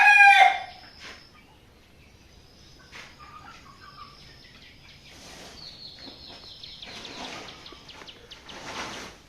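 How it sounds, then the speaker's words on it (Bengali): Chickens cluck and a rooster crows at a rural home in Bangladesh, with a loud crow at the start followed by scattered clucks and further crowing calls from nearby birds. "এখানে খুব মুরগির ডাকাডাকি আছে"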